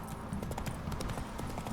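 Roach the horse galloping in The Witcher 3, a fast, rhythmic clip-clop of hooves, fairly faint and close, with a low rumble in the background.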